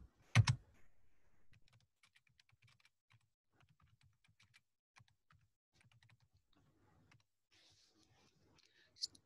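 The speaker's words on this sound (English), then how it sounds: "So they will ask the question by typing in this box." Soft, scattered keyboard clicks tap out irregularly at low volume, with a sharper knock near the start and another click at the end.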